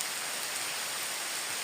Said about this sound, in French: pas combien de temps il va pleuvoir comme ça